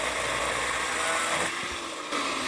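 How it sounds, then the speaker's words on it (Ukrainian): Firewood being sawn outdoors in wet weather, a steady, close, high-pitched motor whine like a chainsaw running without a break for the whole stretch. "Тобі пиляю дрова, тобі."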